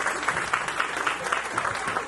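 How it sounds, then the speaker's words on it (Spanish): Wedding guests applaud as a bridesmaid is introduced at a reception; steady, medium-loud clapping from a roomful of people, with no talk over it. "Con el aplauso de todos ustedes."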